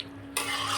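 Spice masala and meat stirred in a pan give a short sudden scraping rush with a sizzling hiss, close and fairly loud after a brief quieter moment.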